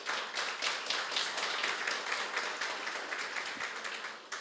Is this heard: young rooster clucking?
no